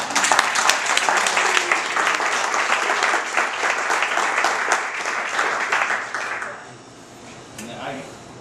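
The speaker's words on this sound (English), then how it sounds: "I think everybody should give Tiffany a round of applause." An audience claps for a person honored during a kick-off speech: close, full applause that stays strong for about six seconds, then tapers to scattered claps and quiet.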